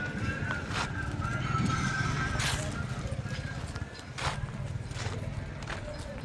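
Horses at the Anthiyur cattle and horse market make hoof clops and stirring noises, with a whinny among them, under steady crowd bustle and nearby talk.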